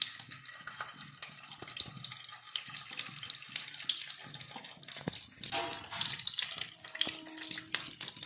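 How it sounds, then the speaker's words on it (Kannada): Eggs fry in heated oil on a tawa for a dhaba-style egg fry, giving a close, continuous crackling sizzle with dense popping bursts throughout and no talking. "ಈಗ ಇದು ಎಗ್ನ ಈ ಎಣ್ಣೆ ಒಳಗೆ ಹಾಕ್ಕೊತೇನೆ ರೀ"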